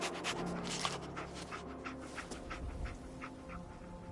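Dogmeat, the dog companion in a video game, sniffs and pants close by in quick rhythmic breaths, soft and steady with faint background ambience.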